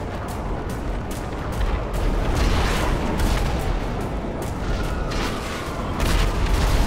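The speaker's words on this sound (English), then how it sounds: "One of them is using a tank." Tank cannon fire in GTA: loud, dense rumbling blasts that roll on continuously for several seconds, booming and noisy without clear gaps and with no talk over them.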